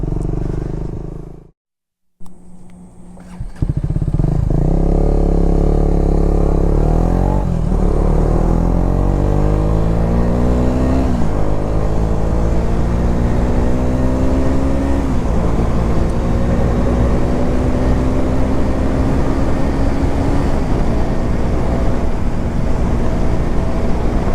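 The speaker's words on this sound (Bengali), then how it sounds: "এরকম একটা জঙ্গলের ভেতর দিয়ে এভাবে চলে বাইক চালানোর একটা আলাদা অ্যাডভেঞ্চার" A motorbike ridden along a forest road through sal woods in the monsoon, its engine droning steadily and close after a brief gap near the start, with a rising pitch as it accelerates through the gears.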